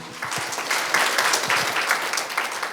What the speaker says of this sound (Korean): 그러면 이봉훈 교수님을 큰 박수로 모시겠습니다.